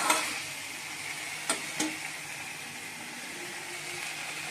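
Potol, potato and fish curry frying in a pan, a soft steady sizzle with a couple of sharp clicks from utensils against the pan, close and fairly quiet, no talking.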